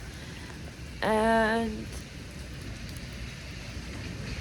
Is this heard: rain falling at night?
yes